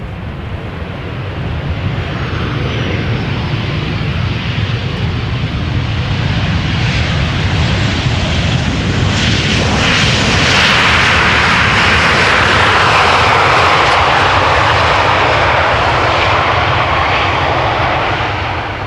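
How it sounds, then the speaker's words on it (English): A KLM Boeing 737-800 jet airliner arriving at Amsterdam Schiphol Airport, a loud continuous engine roar that swells as the plane passes close and then slowly eases, with no talking. "This is KLM flight 1070, Boeing 737-800 arriving from Manchester"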